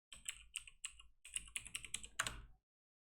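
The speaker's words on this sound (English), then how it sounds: "I'll just type algorithm over here." A short, quiet burst of typing on a computer keyboard: a quick run of crisp keystrokes for about two and a half seconds, then silence.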